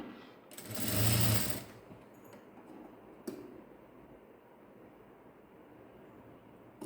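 A sewing machine stitches a hand sleeve design on lined fabric in one brief, loud whirring burst of about a second, followed by a click and quiet room tone.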